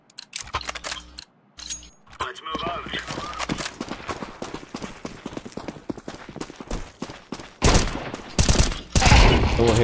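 Rapid bursts of gunfire in Counter-Strike 2, sharp clustered shots and volleys spread throughout, heavier near the end, with players talking over the action.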